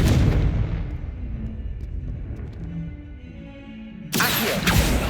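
The Confringo explosive spell bursts in Hogwarts Legacy with a loud boom that rumbles and fades over several seconds, followed by a sharp second blast near the end.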